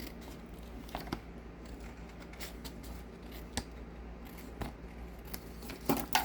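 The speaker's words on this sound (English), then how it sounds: "I flip it over and I just cut off the excess" Scissors snipping paper scraps along a straight line while trimming excess from a handmade card: quiet, close crisp snips at irregular intervals with light rustling of paper between cuts, no talking.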